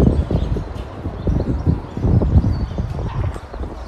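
Horse hooves in a working trot during dressage practice in an arena, a steady two-beat clip-clop of close, fairly loud footfalls with light wind noise and no talk.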